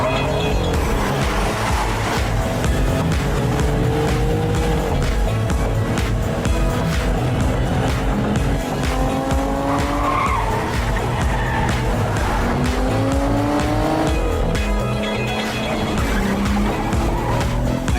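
A car races at speed with screeching tyre skids, engine roar and squeal sweeping through a dense, loud mix over continuous music-like layers, with faint voices.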